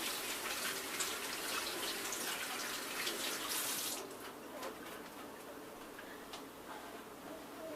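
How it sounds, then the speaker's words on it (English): Running tap water pours steadily while hands are rinsed off at a kitchen sink during smoothie making, a dense continuous hiss that drops somewhat in level halfway through, with no talk. "Wash my hands off."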